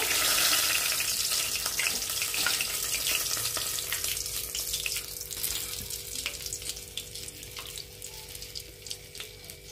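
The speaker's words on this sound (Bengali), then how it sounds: "গ্যাসের আঁচটা মিডিয়ামে দিয়ে একটু টাইম ধরে আস্তে আস্তে ভেজে নেব।" Chicken leg pieces deep frying in hot oil over a medium gas flame, KFC style, give a steady hissing sizzle with faint crackles, moderately quiet and close, with no voices.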